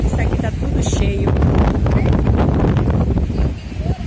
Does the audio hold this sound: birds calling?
no